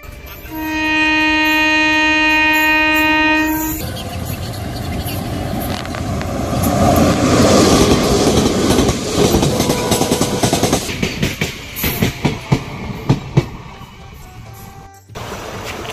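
Green passenger train passing nearby: a sustained horn blast opens, then the loud rumble and rhythmic clatter of wagons on the rails builds and rolls past before the sound drops away.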